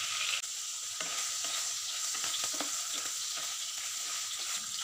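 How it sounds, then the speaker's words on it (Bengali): Cubes of paneer fry in oil in a pan with turmeric and salt, giving a steady, even sizzle with occasional stirring scrapes, close and fairly quiet with no voices. "পনিরগুলো একটু লাল লাল করে ভেজে নেব।"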